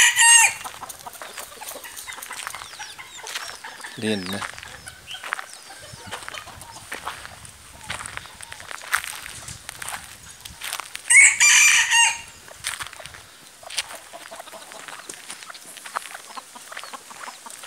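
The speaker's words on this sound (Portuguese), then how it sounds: "Esse é um galinho combatente puro." An Indian fighting rooster crows twice, once early and once loud near the middle, with a brief voice and quiet farmyard ambience between.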